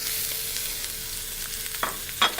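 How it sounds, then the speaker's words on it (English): Mushrooms hit a hot pan already holding cooking bok choy, giving a soft steady sizzle with a couple of brief louder stirring scrapes near the end. "we're going to add our mushrooms to the pan"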